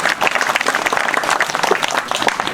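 A crowd applauds at a Balinese Calonarang performance at Pura Dalem, a steady, fairly loud wash of many hands clapping without pause.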